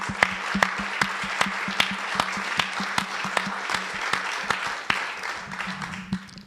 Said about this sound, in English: can we honour all of those people by giving them a big old round of applause